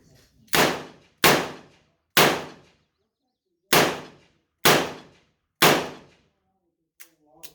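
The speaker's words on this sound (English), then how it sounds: "It's supposed to be rapid fire test, right? I'm not supposed to stop in between shooting." An RIA M200 revolver is fired rapidly outdoors: six loud, sharp shots in uneven succession, each ringing off briefly, followed by faint clicks at the end.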